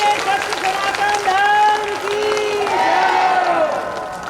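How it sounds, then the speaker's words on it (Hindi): Devotees at a satsang gathering applaud loudly, a full, continuous burst of clapping with voices and tonal sounds mixed in, swelling and then easing slightly toward the end. "सनातन धर्म के लिए एक बार जोर से तालियों का स्वागत करते हैं"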